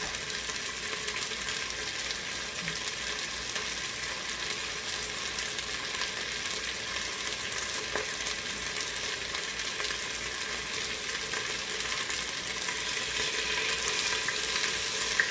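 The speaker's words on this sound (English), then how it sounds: "I don't know if you can hear that searing or not, but it's cooking" Steady, continuous sizzling of chicken searing in a hot Pampered Chef Quick Cooker, a constant hiss and crackle at moderate volume with no talking.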